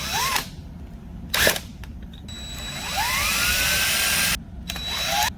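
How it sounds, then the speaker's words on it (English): A power drill countersinking holes into a 2x6 for lag bolts, whining in several bursts with rising and falling pitch, close and loud, separated by short pauses. "I need to install these lag bolts. First I'm going to countersink"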